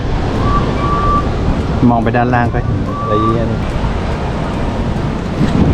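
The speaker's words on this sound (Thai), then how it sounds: "บรรยากาศกรงมันก็จะมีลมโกรกนี่นะ" Wind rushes in a steady, loud roar at the top of the Fujiyama Tower ride at Fuji-Q Highland, buffeting the microphone while a person talks over it.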